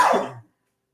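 A single short, close cough bursts out and then cuts to silence.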